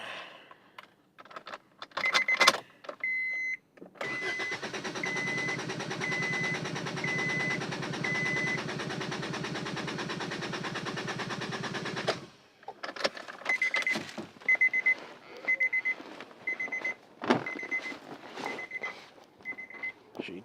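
A cold Holden HG engine cranks on its starter for about eight seconds without firing, a steady whirring drone framed by scattered clicks and rattles before and after.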